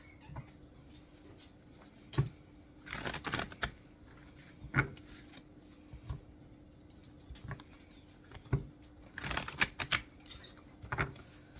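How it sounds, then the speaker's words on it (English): Tarot cards being shuffled nearby, bursts of quick riffling and tapping clicks separated by short quiet pauses, faint and close. "So let's give it 3 shuffles."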